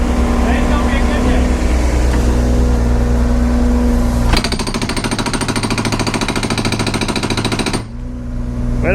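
A rented mini excavator fitted with a hydraulic hammer pounds a concrete pad with a loud, rapid, continuous rattling, rising to a harsher hammering midway over the engine's steady drone, then cutting back to the idling engine.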